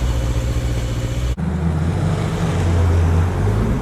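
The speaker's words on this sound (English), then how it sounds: "Starting my car registered 73 decibels" A car engine turns over and catches, then settles into a steady low rumbling idle at about 73 decibels, loud and close.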